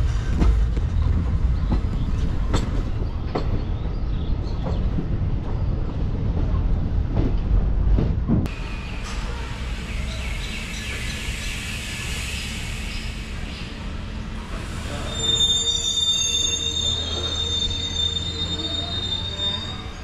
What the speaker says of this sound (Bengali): নিউ আলিপুরদুয়ার স্টেশনের দিকে ঢুকছি আমাদের ট্রেন।